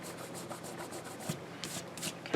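Rubbing dried glue off a paper craft album page makes soft, quiet, repeated scratchy strokes up close, in uneven rhythm, with no talking.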